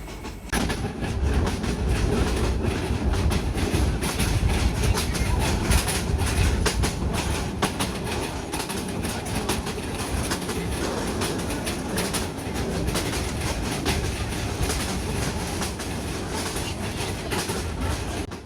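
A train rumbles steadily along the rails through green countryside between Kishorganj and Jamalpur, Bangladesh, with a continuous clattering roar, loud and close, lasting throughout without pause.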